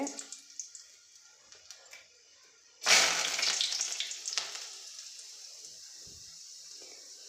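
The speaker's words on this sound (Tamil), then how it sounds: "உருக்கு சட்டியில் எண்ணெய் ஊற்றி கடுகு போட்டுக்கோங்க கடுகு நல்லா அப்புறம் கருவேப்பிலை போட்டுக்கோங்க" Mustard seeds pop in hot oil in an iron pan with sparse crackles, then curry leaves go in and set off a sudden loud burst of sizzling that fades to steady frying with scattered pops.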